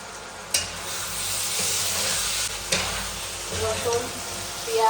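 Chicken pieces fry with garlic and onion in a pan, giving a continuous close sizzle with a few knocks and stirring scrapes along the way.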